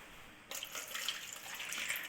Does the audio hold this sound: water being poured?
yes